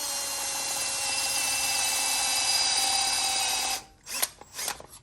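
A power drill grinds steadily into metal lubricated with WD-40 while working on an Oldsmobile Cutlass, a loud, continuous whine that stops and gives way to a few short stuttering bursts.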